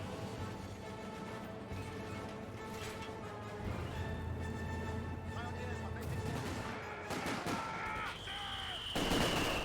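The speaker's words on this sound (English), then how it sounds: "Mortar half-track range a little bit forward, trying to hit that Vickers emplacement." Mortar and small-arms fire in Company of Heroes 2, with a mortar half-track shelling a Vickers machine-gun emplacement; dense battle noise with repeated shots and impacts runs throughout, louder toward the end.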